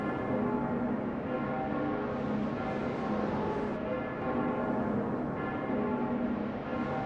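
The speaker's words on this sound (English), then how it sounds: "I can hear the tolling of the bells." Bells toll in a scene from the video game Fate/Grand Order, a dense, ringing wash of overlapping sustained tones that carries on steadily throughout.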